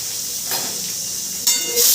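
A pressure cooker on a kitchen stove vents steam through its whistle. It gives short loud hissing bursts over a steady background rush, the second burst sustained at the end.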